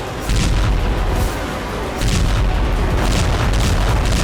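Heavy artillery blasts from the Russia-Ukraine war boom in quick succession, loud and deep with rumbling tails, two main bursts running into one another with no pause.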